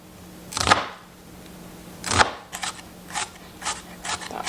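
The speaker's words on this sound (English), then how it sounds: "And I'm gonna cut my onions" A knife chops onions very small on a cutting board for pico de gallo, giving a few sharp, close cuts followed by a quicker series of lighter chops.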